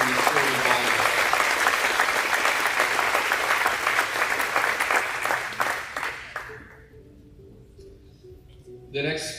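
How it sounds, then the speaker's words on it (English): Banquet audience at a school athletics awards night applauding all-conference volleyball athletes, a dense, loud wash of many hands clapping that fades out near the end before a brief burst returns. "let's give one more round of applause for our all-conference members from the sport of volleyball"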